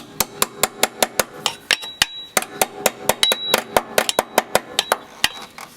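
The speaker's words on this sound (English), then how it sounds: "So I'm just going to take my wrench." A wrench ratchets on a rear brake line fitting during a Rough Country install on a Jeep Cherokee XJ, giving a quick, steady run of sharp metallic clicks close up with no talking.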